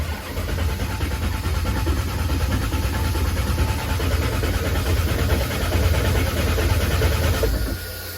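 Car fitted with a 98mm turbo and Dominator engine management being cranked on its first start attempt, a loud continuous starter-driven churn that never catches, holding steady for several seconds before easing off.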